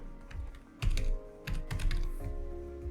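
A folder name is typed on a computer keyboard in short bursts of crisp, close keystrokes separated by brief pauses, with no speech.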